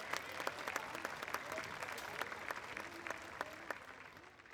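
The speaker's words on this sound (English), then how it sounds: "How about a little hand clap?" Scattered hand claps from a small outdoor crowd at a summer park event honoring the mayor, faint and sparse with distinct individual claps rather than a full roar.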